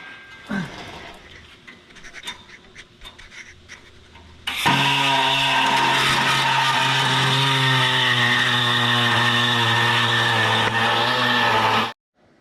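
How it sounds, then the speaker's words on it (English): An air saw cuts half-inch steel plate in a shop, a loud, steady, high-pitched buzzing whine that starts abruptly after a few seconds of quiet clatter, holds continuously up close, then stops sharply. "How you doing cutting 1/2 inch plate over here with the air saw?"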